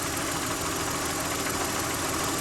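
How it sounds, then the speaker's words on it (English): A collectible car's engine idling smoothly, a steady, even mid-pitched rumble that holds constant throughout with no talk. "But this is how smooth the engine is. It's better than it was."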